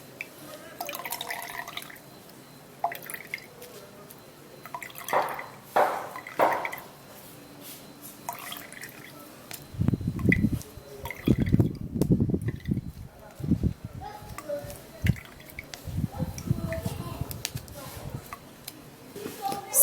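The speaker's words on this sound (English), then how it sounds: "I will have to assist it and press it for the juice itself to come out" Ginger juice is pressed by hand and drips out, giving soft irregular wet squishes and drips in bursts. A voice talks over parts of it.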